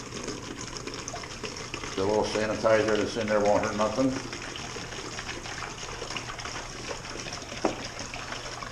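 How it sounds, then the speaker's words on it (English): Water pours from a jug into a carboy for sanitizing, a steady trickling gurgle that runs throughout at moderate volume while someone talks briefly over it. "You dump your water into your carboy."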